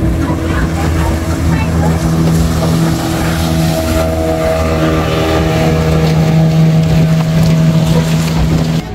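A speedboat runs on a lake at a lakeside park in Chuadanga, its engine a steady continuous drone with a sustained tonal hum throughout, fairly loud, with crowd murmur and voices in the background.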